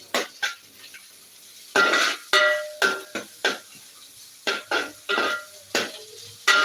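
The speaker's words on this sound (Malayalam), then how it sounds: "നന്നായിട്ട് ഇതിനൊന്ന് റോസ്റ്റ് ചെയ്തെടുക്കണം" Rava (semolina) being stirred and roasted in a pan: a run of loud, close scraping strokes of a spoon against metal, coming in quick uneven bursts with short pauses between, and no voices.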